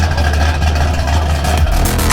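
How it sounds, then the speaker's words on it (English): A naturally aspirated big block Chevy car engine rumbles loud and close with a deep, throaty tone, then picks up slightly toward the end. "That is a big block Chevy, naturally aspirated, and such a wonderful sound."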